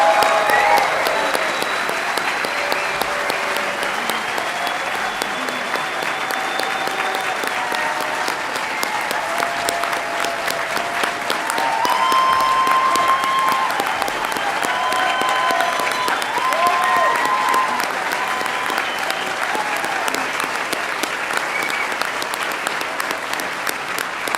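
A large audience applauds at a Colorado State University veterinary hooding ceremony for the class of 2022, dense sustained clapping that carries steadily throughout, with faint cheers and voices mixed in.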